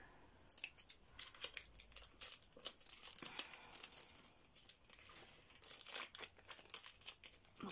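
A well-sealed plastic bag holding a Build-a-Bear character guide is pulled open, giving quiet, close, irregular crinkling and rustling bursts throughout.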